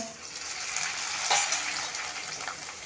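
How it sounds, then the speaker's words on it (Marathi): Corn flakes for chivda fry in hot oil in a wok, a steady, continuous crackling hiss with a brief louder burst midway. "आता थोडेसे मक्याचे पोहे थोडे थोडे घालून तळून घेऊया"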